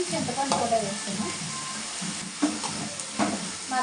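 Green chillies, tomatoes and tamarind sizzle and fry in a pan while being stirred, a steady close hiss with soft clicks and scraping of the spoon throughout.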